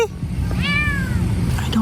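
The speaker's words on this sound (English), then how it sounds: "It sounds like the cat's up in a tree somewhere." One clear, rising-then-falling meow from a cat up in a tree in an overgrown backyard, set over low steady background rumble with a faint brief sound at the end.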